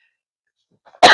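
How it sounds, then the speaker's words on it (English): A woman's single sharp cough, close and loud, breaking a near-silent room abruptly at the very end after a faint stir. "I must get a drink of water and drown this cough"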